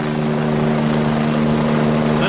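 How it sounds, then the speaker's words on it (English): A helicopter landing at a school disaster drill, heard as a loud, steady rotor and engine drone with a constant low hum throughout, close by and unbroken. "We'll let the helicopter land."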